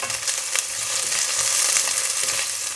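Food fries in a pan for a Murcian magro con tomate tapa, making a steady close sizzle with light stirring scrapes over it.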